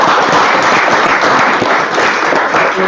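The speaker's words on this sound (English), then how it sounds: "I just want to give Randy and Angela a round of applause" Attendees at a 43 Division community police liaison committee meeting give a couple a round of applause, a loud, close, continuous wash of clapping throughout.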